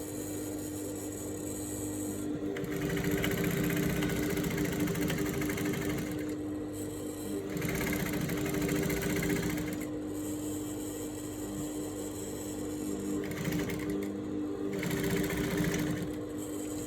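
Sewing machine stitching a straight leg pant up to the notches, a loud continuous motor whirr that surges in several long runs with brief slowdowns between them.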